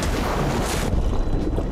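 A small boat heads out to sea as wind buffets the microphone hard over the rush of moving water, loud and continuous throughout with no voices.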